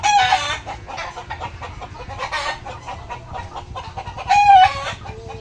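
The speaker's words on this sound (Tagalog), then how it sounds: "Nabubulabog yung mga alagang manok." Pet chickens clucking in agitation, with repeated nervous clucks and squawks and a louder outburst near the end, close by under low background noise.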